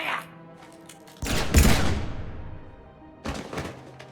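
Gunfire in Mass Effect 3, a heavy burst of shots and booming impacts that rolls into a decaying rumble, followed by a second smaller volley, fairly loud and close.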